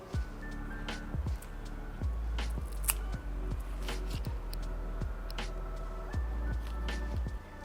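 Scissors snip through leggy philodendron stems, with a quick run of close, crisp cuts over a low steady background hum.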